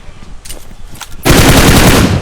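Rapid automatic gunfire in a shooting video game lands a headshot, a loud sustained burst of shots that erupts suddenly after quieter game ambience and keeps firing to the end.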